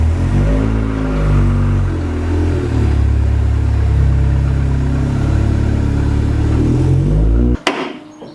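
A Ford Sapphire RS Cosworth engine, nearby and loud, runs with a deep, throbbing rumble and slight swells in revs. It cuts off abruptly near the end, leaving near silence.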